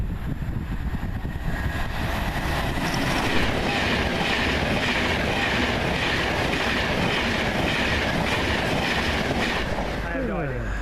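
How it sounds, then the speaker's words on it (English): A train from Preston passes close by for the whole stretch, a loud, steady rail roar with clattering wheels and a faint squeal of wheels near the end. "here comes the Preston train while we're at it"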